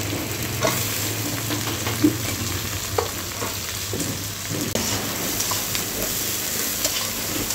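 Sliced potatoes and eggplant sizzling in hot oil with onions fried until reddish, a steady dense crackling hiss with occasional sharper pops and stirring clatter, close and continuous.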